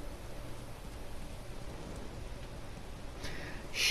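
Rain falls in The Last of Us Remastered, a soft, steady hiss of rain on surfaces that is fairly faint and continuous, with a brief brighter noise near the end.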